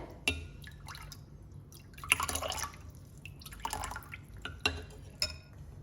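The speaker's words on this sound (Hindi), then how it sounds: "इसको अच्छे से मिक्स कर लेंगे ताकि काला नमक इसमें अच्छे से हल हो जाए।" A spoon stirs raw mango sharbat with black salt and jaggery, giving soft irregular clinks and liquid swishes in a glass, quiet and close.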